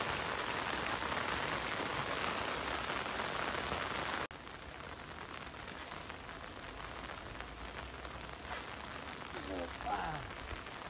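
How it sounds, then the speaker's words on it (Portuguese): Steady rain falls on a riverbank during a fishing trip, a continuous hiss of drops on surfaces, close and even, with a sudden drop in level partway through and a faint voice late on. "E a chuva não para, minha gente."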